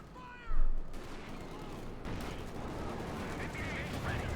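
Rifle fire from a World War II battle in Company of Heroes 2, a sharp burst near the half-second mark followed by continuous battle noise and scattered shots under commentary.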